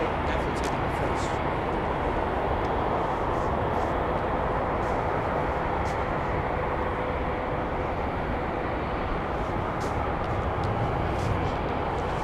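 A Delta airliner taking off at Minneapolis–St. Paul airport: a loud, steady broadband jet roar holds unbroken from start to finish, close and dominant, with no other sounds standing out.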